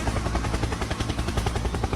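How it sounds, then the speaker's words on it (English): Helicopter rotor thumps in a rapid steady pulse, loud and close, with dense low rumbling and broadband noise throughout the short stretch. "Helicopter, helicopter."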